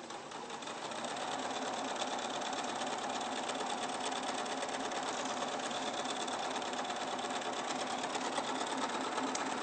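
A sewing machine stitches fabric in a fast, steady mechanical whir that runs continuously and close, holding an even loudness throughout.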